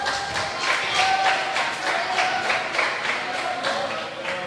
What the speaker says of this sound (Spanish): Denle un fuerte aplauso a Dios